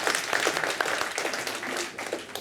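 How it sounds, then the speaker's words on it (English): Audience applause in a conference hall at a youth employment event, a dense, steady wash of many hands clapping, moderately distant and sustained throughout with no clear break. "You are allowed to clap, by the way."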